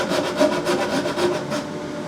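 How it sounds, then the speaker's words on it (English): A Shinto rasp worked in pull strokes trims excess guitar binding flush, giving steady, close rhythmic rasping with about six even scraping strokes and no talk. "I'm using the Shinto in pull mode to hog away the excess bindings down to about 1/3 of a millimetre."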